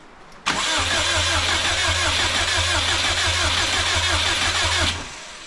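A Subaru WRX fitted with a fender-exit exhaust cranks and fires up, then settles into a loud, steady rumbling idle close by for several seconds before cutting off.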